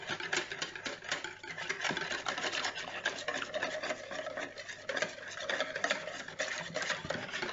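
A whisk or spoon stirs cornstarch into liquid to dissolve it, making a fast, continuous scraping and rubbing against a bowl, close and steady, without pause.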